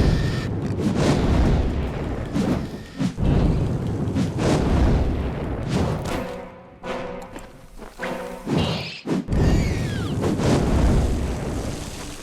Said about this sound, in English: Burn them! Spiders really don't like fire.